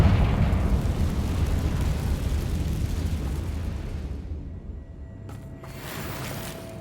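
A Confringo fire spell explodes in Hogwarts Legacy, a heavy rumbling blast that rolls on and slowly fades over several seconds, followed by faint crackling and a light tonal shimmer.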